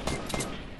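A quick burst of two or three gunshots in Fortnite, close and loud, over a brief rumbling tail.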